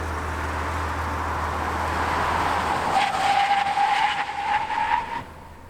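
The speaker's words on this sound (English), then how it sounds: "from 60 miles an hour, the pickup truck stopped in 153 feet" A vehicle brakes hard from 60 mph, its tires skidding and squealing on pavement. The steady rolling noise turns into a rising screech partway through, then cuts off as the vehicle stops.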